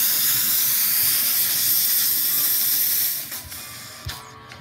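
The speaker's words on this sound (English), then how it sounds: "I do have to wait a second, let the steam build up a second." A steam cleaner hisses steadily and loudly as steam builds, then sputters and tapers into quieter bursts near the end, with no talking.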